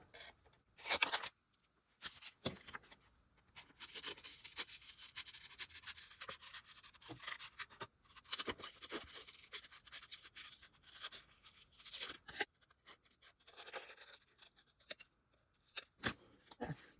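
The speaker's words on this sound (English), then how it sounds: "now I'm going to fussy cut this out" Small scissors fussy-cut paper for a handmade card, producing quiet, close, continuous scratchy snipping and rustling with short pauses and a few sharper clips.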